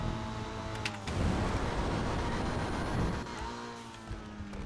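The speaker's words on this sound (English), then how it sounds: "Just kind of spun tires there." Tires spin and an engine roars loudly in a racing video game with nitrous, a steady dense burst of wheelspin noise lasting a couple of seconds between quieter engine tones.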